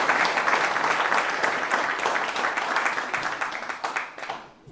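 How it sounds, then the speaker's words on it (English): A club gathering at a Naomh Pádraig commemoration evening gives a warm round of applause for its honorary president, dense clapping from many hands that holds steady before thinning out and stopping. "And so a big round of applause for Paddy being here today,"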